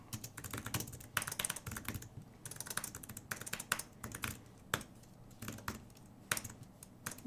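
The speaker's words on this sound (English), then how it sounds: "Oh, I don't know how to type. I've forgotten how to use a keyboard." Typing on a computer keyboard while coding a 3D modeling app, fast irregular bursts of close key clicks with short pauses, fairly quiet and without speech.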